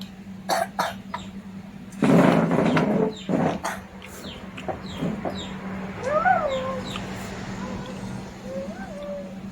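Hens cluck and squawk in short rising calls, fairly near, after a burst of coughing and rustling; a steady low hum runs underneath.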